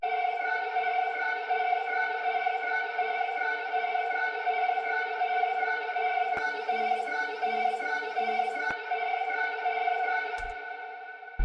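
A choir sample from the Arcade Crate bank holds a steady, sustained vocal chord with an echoing, reverberant tone and a few faint clicks, then fades slightly at the end.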